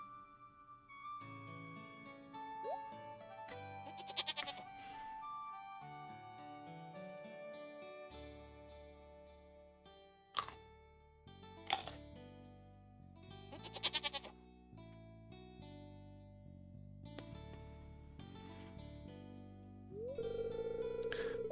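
Goats bleat several times in Stardew Valley over gentle game music. The wavering calls come in separate bursts spread across the stretch, some louder and closer than others, with no talk.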